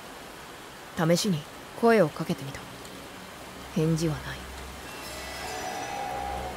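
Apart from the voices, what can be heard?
rain in a video game (mystery novel game)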